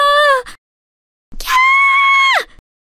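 Schoolchildren in a classroom scream in shock, two loud shrill cries separated by a short silence.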